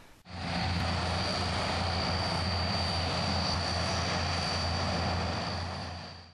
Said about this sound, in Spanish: Las avionetas de la FAP y la Naval iban y venían al aeropuerto de Jauja